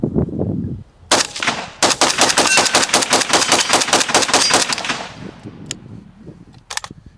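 A Krebs Custom M23 rifle in 7.62x39 fires a rapid string of loud, close, evenly spaced shots over about three seconds, then a couple of isolated later shots.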